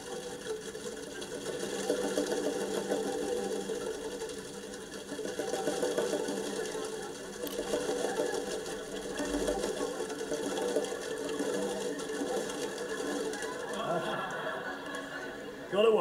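A group taps plastic tuned boomwhacker tubes rapidly in a continuous rumble, making a dense fluttering rattle at a fairly even moderate level, with voices at times.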